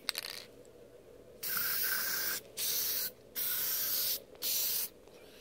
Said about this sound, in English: I'm gonna use this case lube, one-shot case lube, to just put a coating on them and get them ready.